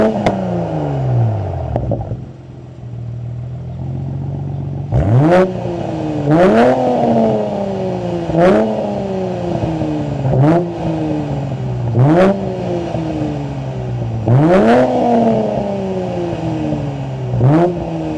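A car fitted with aftermarket dual rectangular exhaust pipes and a rear diffuser revs repeatedly, each sharp blip rising then falling away, loud and close with no talking.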